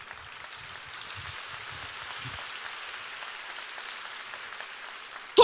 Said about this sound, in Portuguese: Se for para Jesus, você pode aplaudir.